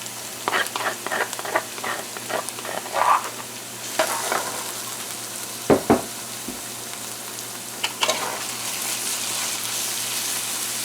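Crushed garlic and pepper sizzle and fry in a pot over medium heat while a spoon stirs with scraping clatters and a few sharp knocks, the steady hiss running throughout.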